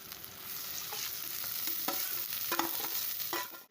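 Onion, garlic and tomato for tomato chutney fry quietly in a pan, a soft continuous sizzle broken by a few light stirring scrapes, close and alone with no voices.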